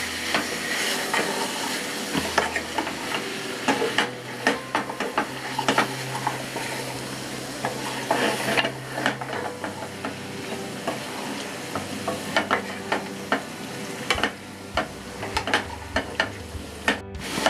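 Chicken pieces with ground coriander, cumin, turmeric, garam masala and red chilli powder sautéing in a pan for Mughlai chicken handi, a continuous sizzle broken by frequent scraping and clinking stirring strokes close by.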